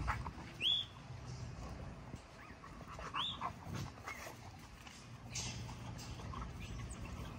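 A dog pants quietly at close range, with soft snuffling and a few faint high chirps in the background.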